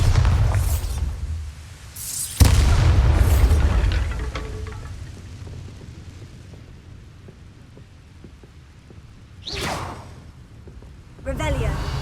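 Bombarda explosion spells go off in the Hogwarts Legacy video game: loud, deep booms with a sharp crack near the start, then a long fading rumble and two more blasts later.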